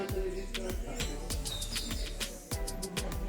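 Local birds on the grounds of St Nicholas Abbey, a Jacobean mansion in Barbados, give repeated short, bright chirps and tweets at moderate distance, with a soft cooing among them.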